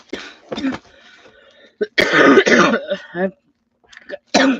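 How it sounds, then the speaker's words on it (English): Throat clearing and coughing bursts, close to the microphone, scattered across the clip with pauses and faint breathing between them. "it just feels like it's rude to cough"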